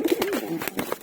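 Pigeons cooing in a breeding loft, soft throaty repeated coos close by with brief wing or shuffling sounds between them.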